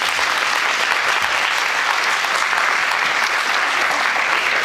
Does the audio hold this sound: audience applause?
yes